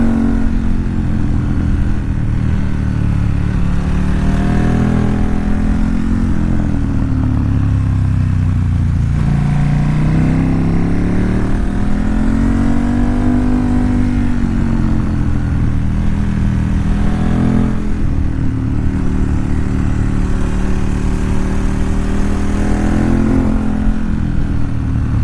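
Motorcycles ride along a winding mountain road, their mid-pitched engines droning steadily and loudly throughout, with rising and falling revs as they accelerate through the curves, and no talk.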